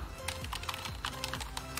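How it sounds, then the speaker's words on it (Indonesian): Rapid typing on a Keychron K1 V4 mechanical keyboard, a close, steady patter of crisp key clicks with a few louder taps standing out, heard alone without talk. "Nah, kita coba untuk mengetik ya."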